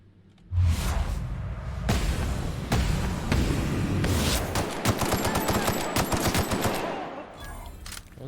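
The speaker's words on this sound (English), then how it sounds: "We missed almost all our shots." Gunfire in The Outer Worlds while shooting outlaws, loud dense bursts of rapid shots and booming impacts sustained for several seconds in a continuous firefight.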